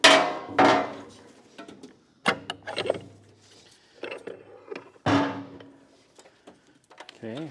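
A hammer strikes metal parts while a built transmission from a 2001 VP-44 tow rig is taken apart in a race shop. Several loud, close impacts come in irregular bursts with clanks and short rubbing noises, and voices can be heard nearby.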